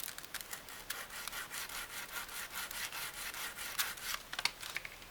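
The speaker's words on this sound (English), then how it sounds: "To cut it, I'm going to score it into the graham cracker." A blade scoring a graham cracker, quick rhythmic scratchy strokes repeating steadily back and forth, close but quiet.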